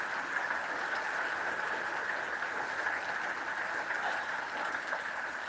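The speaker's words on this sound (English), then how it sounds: "That's what that sound is the rain on the roof of the RV." A downpour hammers steadily on the roof of an RV at a campground, producing a thick, uniform patter-hiss that stays close and unbroken from start to finish.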